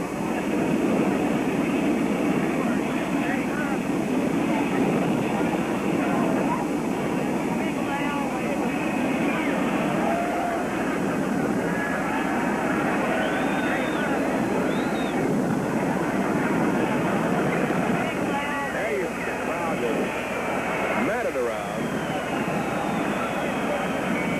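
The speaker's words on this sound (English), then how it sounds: "Here comes the big jet in." A large jet airliner carrying the President and Mrs. Kennedy arrives at an airport, its engines roaring steadily and loudly for the whole stretch while a commentator talks over it.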